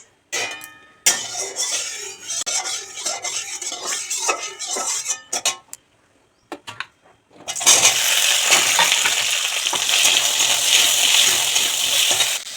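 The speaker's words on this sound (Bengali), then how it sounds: "দেখো উচ্ছেটা ভাজা হয়ে গেছে।" Metal utensils clink and scrape against a pan, then a loud continuous sizzle of bitter gourd and okra frying in oil takes over for the last few seconds.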